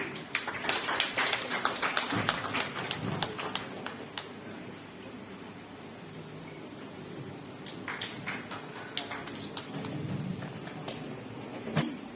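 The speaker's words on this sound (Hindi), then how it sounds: "हमारी ललिता काफी मैम के लिए एक बार जोरदार तालियां" An audience at a book launch event claps loudly for the book's author, a long stretch of close, crisp hand claps that thins out midway and then swells again before fading.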